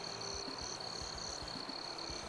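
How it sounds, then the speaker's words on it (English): Crickets chirp steadily in the background at night, a continuous high-pitched trill with faint low pulses beneath, no talk. "crickets."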